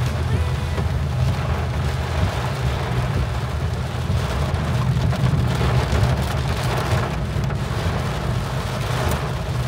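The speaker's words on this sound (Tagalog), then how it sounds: "Sobrang lakas ng ulan." Heavy rain pours down in the Philippines, a dense, steady roar of drops hammering surfaces throughout, loud and unbroken with a low rumbling undertone.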